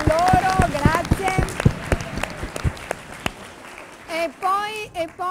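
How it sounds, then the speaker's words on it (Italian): Applause for teachers at a school event in Cosenza, with scattered separate claps at first mixed with voices, then a brief burst of speech near the end. "Allora un applauso anche a loro, grazie."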